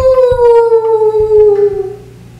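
A person imitates an animal howl from a rooftop at night, a single long, loud falling wail with strong harmonics, faint thumps underneath, fading at the end.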